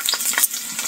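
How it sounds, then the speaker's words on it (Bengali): Onion and garlic fry in hot oil with a steady, close crackling sizzle that lasts the whole second, broken by a few sharp pops and stirring scrapes. No one speaks. "তেল দিয়ে দিচ্ছি, পেঁয়াজ আর রসুন"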